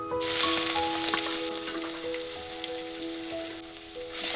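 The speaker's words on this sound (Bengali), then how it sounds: "আর দিচ্ছি দুটো তেজপাতা আর দিচ্ছি গ্রেট করা আদা" Bay leaves and grated ginger dropped into hot oil for a vegetarian coconut and ash gourd dish, a bright, loud hissing sizzle that stays close and steady, easing slightly before flaring again at the end.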